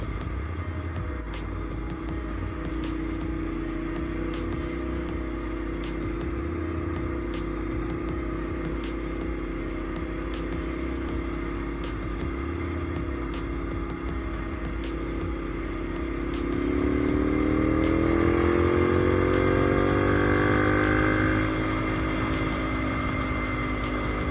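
A 2010 Ducati Monster 696 motorcycle engine drones steadily while riding, its pitch climbing and swelling louder near the end as the bike accelerates under wind noise.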